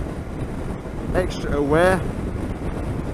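Wind buffets a motorcycle rider's microphone on the road, a steady low rumble with gusting roar throughout, while someone speaks briefly over it.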